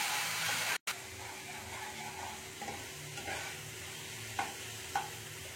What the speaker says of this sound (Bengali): আদা রসুনটা একটু ভালো করে ভাজা হয়ে গেছে